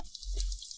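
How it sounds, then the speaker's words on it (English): Cutting fluid coolant dripping onto a lathe workpiece: a soft, close liquid trickle with a brief swell midway, no talk. "this drip water, will it even work?"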